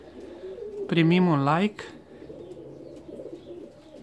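Fancy ornamental pigeons in an aviary give one clear rolling coo up close, while someone talks over steady background murmur.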